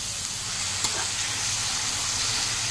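Bombay duck (bombil) fish fry in a pan with vegetables, giving a steady, close hiss and sizzle that stays loud and even throughout.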